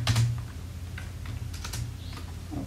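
Code is typed on a computer keyboard, with quick irregular key clicks and taps close by and no talk.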